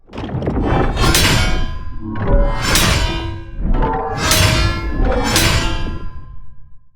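A combined, designed two-hand sword effect for an aggressive cold weapon strikes four times in a steady rhythm, each a loud, bright metallic clang that rings out briefly over a heavy swoosh, with no voices.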